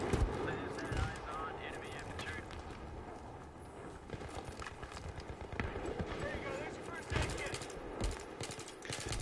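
Gunfire in Battlefield 3, a busy crackle of shots and impacts spread through the whole stretch, moderately distant and mixed with other game noise while people talk over it.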